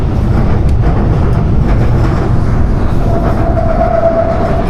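A Shanghai metro train runs on its rails with a loud, continuous rumble and rattle close by, and a thin whining tone rises near the end.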